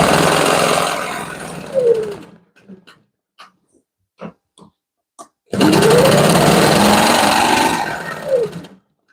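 A Quilted Pineapple 20 quilting machine stitches a bed quilt in two long, steady bursts of rapid mechanical whirring, separated by a quiet pause with soft clicks and taps.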